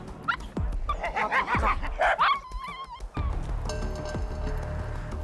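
Several pet dogs on a walk bark in quick, excited bursts at birds, high yips and sharp barks clustering close by, with a person's voice talking between and over them.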